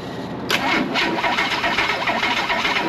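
Inline-6 car engine with timing trouble cranking over during a spark check, a loud, close whirring turnover that starts abruptly and churns steadily without catching.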